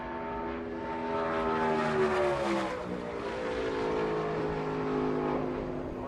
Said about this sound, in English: CJ McLaughlin now on track.